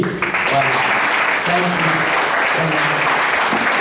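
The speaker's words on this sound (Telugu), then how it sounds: "చప్పట్లు కొట్టి" Audience applause at a church gathering in Ongole, steady and dense throughout, with a few scattered voices murmuring in the crowd.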